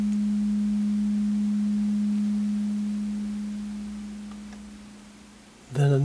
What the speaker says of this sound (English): It all started with a sine wave, the carrier wave.